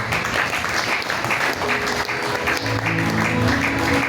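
A church congregation at a youth symposium applauding and acclaiming the Lord, dense continuous clapping throughout with sustained cheering voices and tones rising in the second half.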